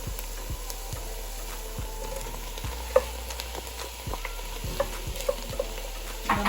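Okra in a frying pan with chopped garlic, faint steady sizzle under a low hum, broken by intermittent scrapes and clicks of stirring, with no voices.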